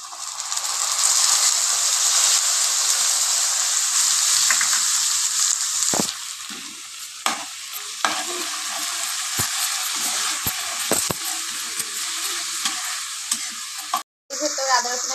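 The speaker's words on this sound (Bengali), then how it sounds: "পেঁয়াজটা বেশ ভাজা ভাজা হয়ে এসেছে এর ভেতরে আমি আদা রসুনের পেস্টটাকে দিয়ে দেবো" Onions frying in a pan with ginger garlic paste added: a loud, continuous sizzle up close, broken by sharp stirring clacks of a spoon against the pan in the second half, with no talking.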